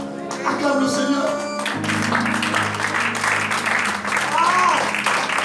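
A church congregation applauds and cheers in acclamation of the Lord, a dense, loud wash of clapping and voices over sustained music that swells midway and carries on to the end.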